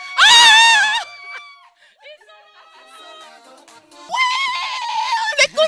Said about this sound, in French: On a eu des cris, encore et encore.